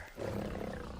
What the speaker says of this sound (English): Sounds like a lion, a tiger, a bear.